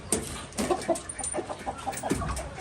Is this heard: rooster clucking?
yes